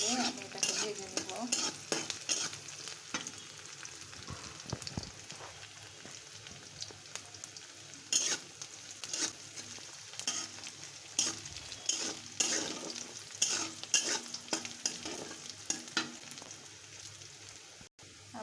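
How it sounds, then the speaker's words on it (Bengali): Garlic, onion and chili fry until browned, with a persistent crackling sizzle and frequent stirring scrapes in irregular bursts, close and moderately loud, without speech. "সুন্দর করে এটা ব্রাউন কালার করে আমি এটাকে ভেজে নেব।"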